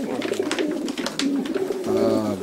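A young racing pigeon cooing close up, a series of soft low rolling coos with a louder, steadier coo near the end and no talking.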